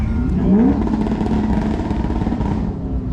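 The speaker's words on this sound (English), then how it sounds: "rev up your motors, or at least that's what someone's doing in the background" A car engine revs somewhere in the background at a Corvette car show, a brief rising rev followed by a steady mid-level engine rumble with clatter, moderately distant and with no talking.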